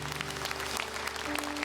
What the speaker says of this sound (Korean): 다시 한번 감사의 박수 올려드립니다.